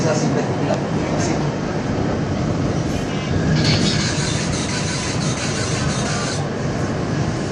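Steady rumbling and rattling of a moving metro train carriage, a continuous loud roar with faint squeals and rubbing, voices murmuring beneath it.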